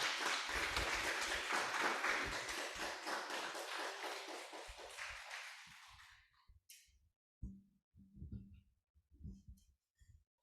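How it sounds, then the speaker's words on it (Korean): A church audience applauds to welcome a pastor, a dense, loud burst of clapping that fades after about six seconds into a few scattered claps and faint taps. "우리 목사님을 박수로 환영하도록 하겠습니다"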